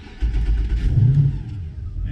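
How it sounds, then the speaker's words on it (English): A 2018 Malibu Wakesetter MXZ 24-foot wakesurf boat's engine cranks and catches, settling into a steady low rumble at close range with no talking. "So the engine noise is much quieter than the Axis"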